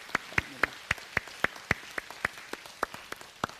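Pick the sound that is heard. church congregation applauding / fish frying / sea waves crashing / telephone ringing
church congregation applauding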